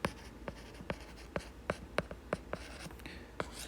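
Hand writing on paper, close and quiet, with steady pen strokes tapping out a regular rhythm of roughly two or three marks per second, alone without speech.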